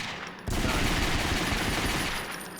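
Continuous rapid gunfire from a recoil-free, infinite-ammo weapon in the PS2 game Ghosthunter, a dense rattling burst that starts abruptly and holds steady for about two seconds before easing off.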